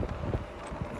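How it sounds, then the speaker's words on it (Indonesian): Gusty wind buffeting an outdoor microphone on a city square in Berlin, a steady low rumble with a few stronger bursts, close and fairly loud with no talk. "Masih berangin"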